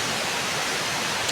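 Jalbire waterfall in Nepal roars as a steady, broad rushing wash of falling water, constant and unbroken throughout, fairly loud with no voices heard.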